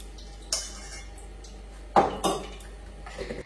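A spoon clinks against pots while cooking a potato and pointed gourd curry, giving a few sharp metallic knocks and scrapes spaced irregularly over a low steady hum, close by.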